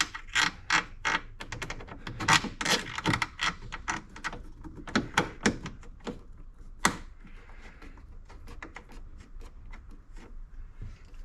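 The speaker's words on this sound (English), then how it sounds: "Taking this rather long bolt out of the speaker, I just got to pull that back a little bit." Quick ratcheting clicks and metallic rattles as a long bolt is backed out of a speaker pod on a 2021 Ford Bronco, in uneven close bursts that fade to quieter fiddling toward the end.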